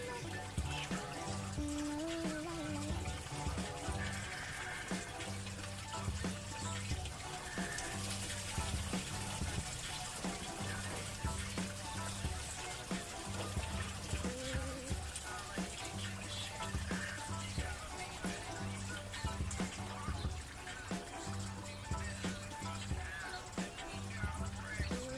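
Leftover coolant water drains out of a Lexus LS400 engine during a timing belt job, a steady trickle and splash running continuously against a low background hum.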